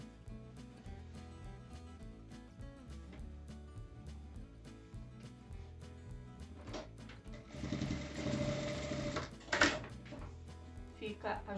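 A sewing machine stitches a seam on a fabric bag, running in a steady close whir for about two seconds after a stretch of quiet handling, with a short clack as it stops.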